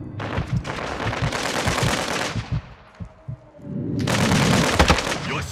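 Loud bursts of automatic gunfire from a Call of Duty match, rapid shots rattling close by, a brief lull near the middle, then another sustained volley.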